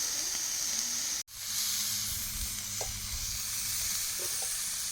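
Chicken pieces fry in a pan for butter chicken being cooked outdoors in a garden, giving a steady, close sizzle and hiss with a brief interruption and faint stirring clinks.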